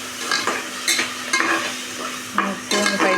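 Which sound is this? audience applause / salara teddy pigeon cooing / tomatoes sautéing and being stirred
tomatoes sautéing and being stirred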